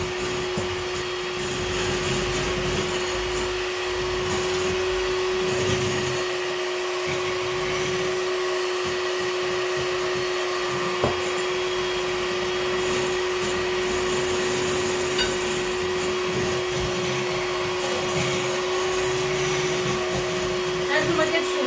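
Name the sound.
electric mixer whipping cream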